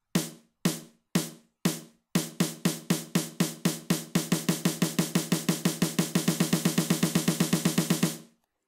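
PolyNome metronome clicks stepping from four quarter-note beats to eighths, triplets and sixteenths at one tempo, the sharp ticks getting denser until they stop, close and alone.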